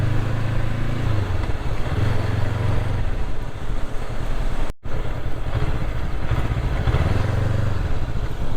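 A Kawasaki Nx500 motorcycle is ridden on a rural road in Assam, its steady engine drone continuous and close, with a brief dropout midway and rumbling low pulses rising and falling throughout.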